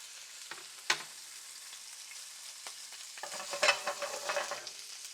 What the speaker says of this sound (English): So now we'll drop this shrimp in here.